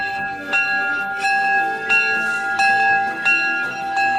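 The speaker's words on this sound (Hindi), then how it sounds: "अचानक अलार्म बज उठा।" An alarm bell in a movie rings loudly in repeated, evenly spaced strikes with a sustained metallic tone that rings on between hits, several times over about four seconds.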